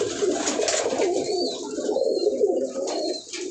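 Fancy coloured pigeons on a rooftop give low, throaty, rolling coos, close and continuous, with a few faint higher chirps and no voices.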